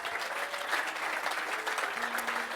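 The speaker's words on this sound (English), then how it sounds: "we need to have a round of applause for Lee Anderton" A crowd applauds for guitarist Lee Anderton at the Guitar Summit 2024 Rock Antenne stage, a dense, steady wash of many hands clapping throughout, with faint voices mixed in.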